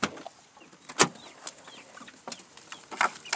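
Chickens on an off-grid homestead cluck in short, scattered calls over about three seconds, with a few sharper squawks standing out against quiet outdoor background and no voices.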